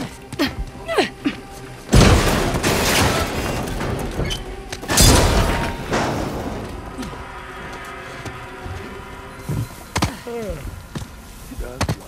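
Explosions in the video game Uncharted: The Lost Legacy during an infiltration mission: two heavy booming blasts a few seconds apart, each followed by a rumbling decay, with a sharper burst later on, under game dialogue.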